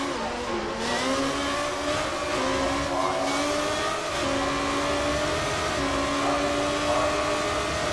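White, red and blue Perfection Motorsports race car in a racing video game holds a steady high engine whine through a practice lap at Italy, pitch climbing and dropping with gear shifts, loud and close the whole time.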